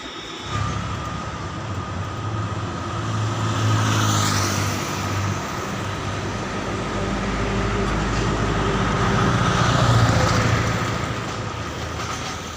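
Steady rumbling drone of a metro train in motion, heard from inside the carriage, with low mechanical hum and swelling track noise rising and falling over several seconds, no talking.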